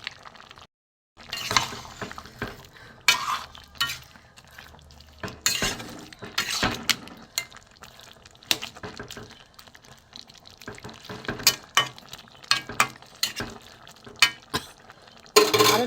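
Pieces of egg omelette are stirred into a jackfruit curry in a pan, with scattered scrapes, clinks and soft wet sloshing in irregular bursts against a quiet background.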